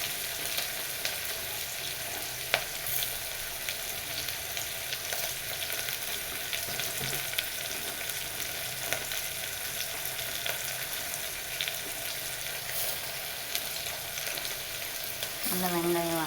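Onions sautéing in ghee, a steady close sizzle with light stirring and scraping sounds running throughout, with no one talking.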